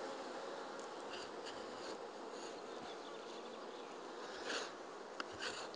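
A dense, steady buzz of many honey bees at a hive being prepared for queen rearing, close and continuous with a few soft knocks, no voices.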